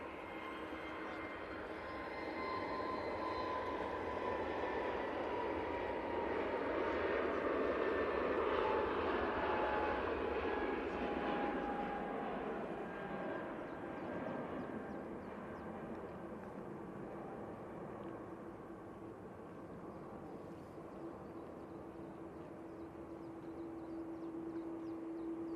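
An easyJet jet takes off at Manchester Airport, its engines swelling into a long broad roar that peaks mid-way and then slowly fades as it climbs away into the distance.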